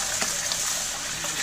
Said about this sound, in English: You want to just swirl it around,